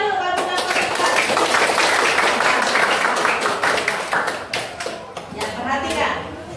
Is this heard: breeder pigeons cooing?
no